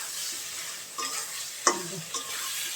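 Potatoes sautéing with spices in a hot pan in a village kitchen: a steady sizzle with a few sharp spoon scrapes and clinks against the pan, close and alone.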